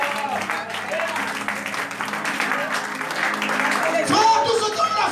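Church congregation clapping and cheering in a continuous, lively burst, with voices calling out over the applause, which swells louder toward the end.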